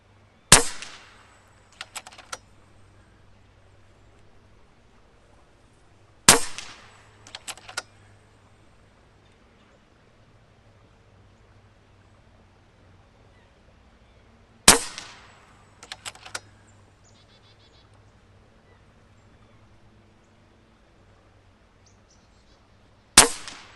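FX Impact air rifle shooting slugs at a target outdoors in a crosswind: four sharp, close shots, spaced several seconds apart, each followed moments later by a quick metallic ring of the slug striking the target.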